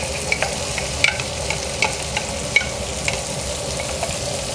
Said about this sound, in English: We're going to go ahead and put our onions in here.